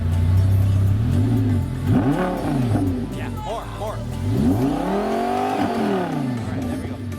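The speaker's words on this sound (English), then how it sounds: "You hear that exhaust sound?" A Lamborghini sports car engine revs repeatedly, its exhaust roaring up and down in pitch, with brief talk over it.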